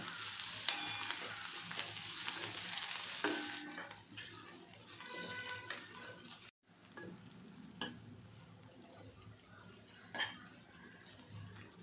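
Onions fry and sizzle in a pan while a spoon stirs them, with scraping and clinks of utensil against metal, close and fairly quiet, in short bursts with pauses.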